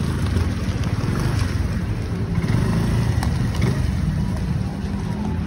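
A new four-stroke Honda Dio scooter engine runs in a steady low drone, partly masked by heavy outdoor wind noise, with no clear talk.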